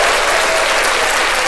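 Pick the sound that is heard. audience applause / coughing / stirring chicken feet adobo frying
audience applause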